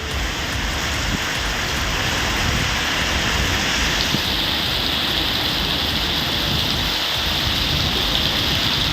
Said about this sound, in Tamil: கண்ணமங்கலத்தில் பலத்த காற்றுடன் ஆலங்கட்டி மழை பெய்தது.